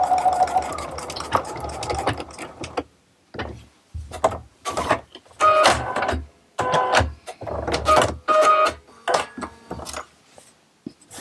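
A sewing machine stitches through rubbery shelf liner in short bursts of rapid mechanical whirring, stopping and starting with quiet gaps and some rubbing and handling noise between runs.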